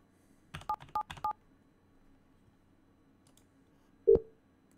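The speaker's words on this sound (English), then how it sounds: "I'm going to dial" Telephone keypad DTMF tones dialing *777 in the 3CX Desktop App: three quick beeps in a row, then a pause and a single louder tone, clear and alone with no talk.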